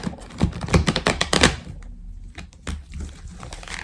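An Améthyste Love oracle card deck being cut: a quick run of close, crisp card taps and flutters, then a short pause and a few softer shuffles, no voice.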